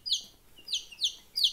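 Chicks under a table lamp peep in four short, high, downward-sliding chirps, close and clear with no voices.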